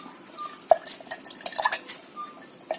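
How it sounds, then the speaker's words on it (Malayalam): Homemade gooseberry arishta tonic is stirred in a pot, with a spoon clinking and scraping against the vessel among soft liquid sloshes, close and fairly quiet. "നമ്മൾക്കിതൊന്ന് ഇളക്കി കൊടുക്കാം."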